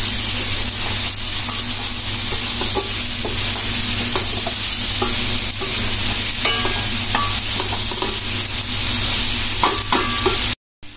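Winter vegetables and dried fish being sautéed and stirred in a pan, a steady close sizzle with scraping stir clicks throughout and a low hum underneath, cutting off briefly near the end.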